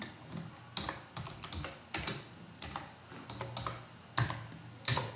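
Keys clatter on a computer keyboard in irregular bursts of close, crisp taps, with short pauses between runs of typing and no voice.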